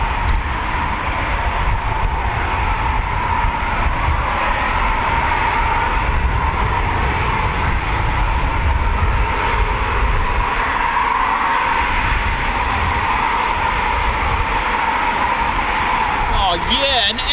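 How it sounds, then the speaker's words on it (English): Three Eurofighter Typhoon FGR4 fighter jets taxi out at RAF Coningsby, a steady, loud broadband jet roar that holds constant throughout, with voices talking over it. "Three Typhoons coming out."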